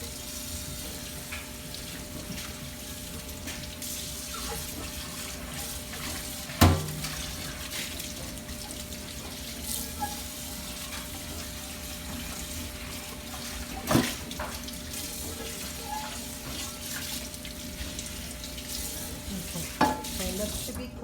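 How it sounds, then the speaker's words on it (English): A dish rinsed under a running kitchen tap, the steady water stream hissing moderately and continuously, with a few sharp clinks and knocks of the dish against the sink. "And then I'm going to rinse the inside."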